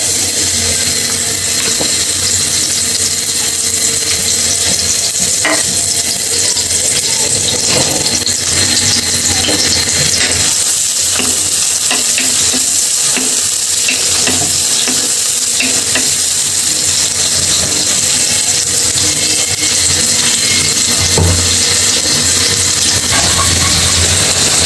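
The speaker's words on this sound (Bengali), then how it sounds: "টমেটো দিয়ে মাছ ভুনা করতেছি" Fish being fried and stirred with onion and tomato into a bhuna, a loud constant sizzle with repeated spatula scraping and stirring throughout.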